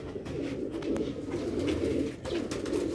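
A pair of pigeons coo near the microphone in soft, low, repeated throaty calls over a continuous background, with no talking.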